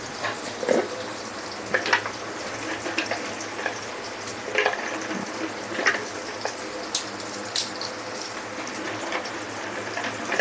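Onion, cinnamon and cardamom frying in oil for a Bengali fried beef dish, a steady crackling sizzle with scattered sharp pops and faint utensil clinks throughout, no talking.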